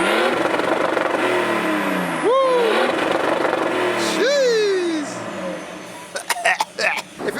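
High-mileage BMW 335d diesel with unknown modifications revving hard on a dyno: a loud, sustained engine roar with two rising sweeps, easing off toward the end, where a few short bursts and voices break in.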